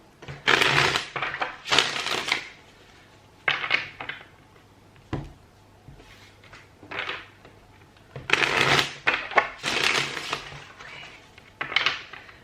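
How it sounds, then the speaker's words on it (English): Tarot cards being shuffled by hand during an all-signs reading, in repeated bursts of riffling and rustling separated by short pauses, close and fairly soft. "Just going to shuffle your cards"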